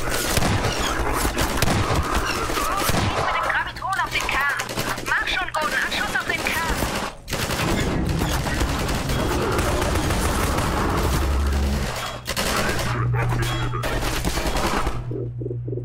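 Sustained gunfire from Half-Life 2, dense bursts and heavy booms running nearly throughout, loud and close, with a voice talking over parts of it.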